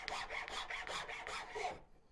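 A coarse rasp files a carved wooden spoon in about seven rhythmic, scratchy back-and-forth strokes, close and alone, ending in silence.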